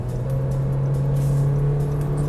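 A car with a 1,500 engine on a test drive hums steadily as it accelerates, a moderate, even engine whir inside the cabin with no talk.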